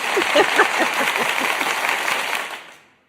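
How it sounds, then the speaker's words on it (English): A studio audience on a morning talk show claps for a guest: a brisk burst of overlapping hand claps that holds for about two and a half seconds, then quickly fades out. "Let's give a round of applause for Janice."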